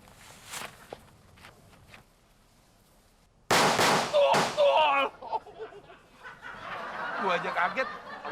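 Firecrackers set off during the Ramadan fasting month: two sharp, loud, close bangs in quick succession, followed by ringing and voices laughing and talking.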